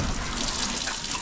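Water sprays steadily from a hose to bathe sows on a farm, a continuous hiss and splash at close range with no talking.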